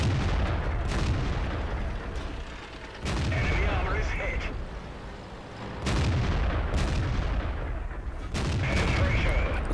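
Tank cannon fire in a tank combat video game, several heavy booming shots at roughly two- to three-second intervals, loud and close over a dense rumbling battle background.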